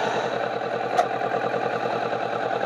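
A motorcycle engine idles steadily and fairly close in a small Cornish harbour village, a continuous low pulsing rumble with one brief click partway through and no talking.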